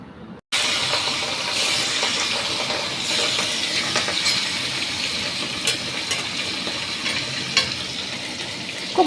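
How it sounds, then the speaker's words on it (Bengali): Hilsa fish fries lightly in a pan, a sudden burst of sizzling that then holds as a steady, close hiss with small crackles and no voices. "আগে মাছটাকে আমি একটু সাঁতলে নিই।"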